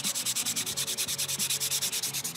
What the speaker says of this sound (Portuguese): Na verdade, o que a gente está lixando é a camada de verniz.